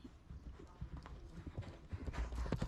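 A big, bold, long-striding eventing horse gallops through woods on a cross-country course, hoofbeats thudding rhythmically under a commentator's voice and background crowd noise.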